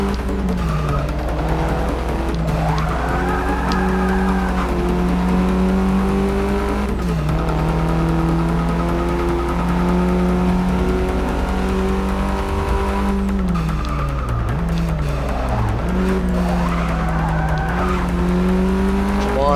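Race car engines drone loudly and continuously in Forza Motorsport 6, their pitch rising and falling through gear shifts, while tires squeal repeatedly through the corners with no talk over them.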